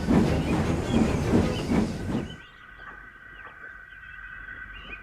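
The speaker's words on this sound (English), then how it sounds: "the driver stopped the train" A train halts on a railway line, loud rumbling and rhythmic chugging that cut off abruptly, leaving a quiet steady hiss of steam.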